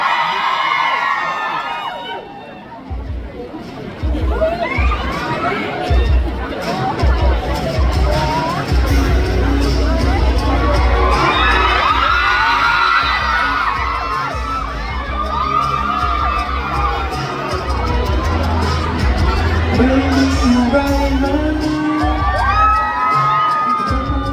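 A large concert crowd welcoming a Thai duo roars with cheering, shrieks and whoops that rise into a loud, sustained swell of excited voices filling the space.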